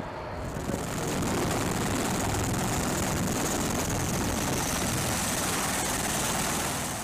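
MV-22B tiltrotor aircraft running on a Navy carrier deck: a loud, steady engine and rotor roar with a constant whine on top, building slightly at the start and holding evenly throughout.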